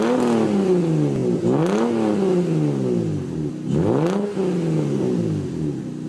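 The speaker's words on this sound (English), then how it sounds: "So here's the sound of an NA Supra." A naturally aspirated Toyota Supra engine revs up and falls back twice, each pull a rising sweep that drops sharply between blips, loud and close with no talking.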